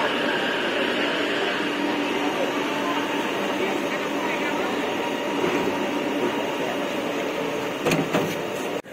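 Metro train pulling into a Kuala Lumpur station, a sustained loud rolling rumble and rail noise filling the platform, ending with a brief sharp clatter, with faint voices underneath.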